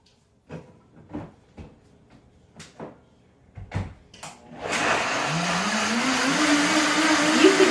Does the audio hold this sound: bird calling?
no